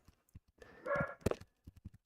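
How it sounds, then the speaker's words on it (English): A dog barking downstairs in a house, a few muffled, distant barks and yips scattered among soft thumps, faint and indoors. "And we got my dog barking downstairs."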